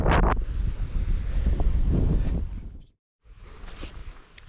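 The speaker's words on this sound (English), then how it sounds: "it's a bit windy up here" Loud, rumbling wind buffets the microphone continuously on high ground near Wetton, cuts out briefly, then returns at a lower roar.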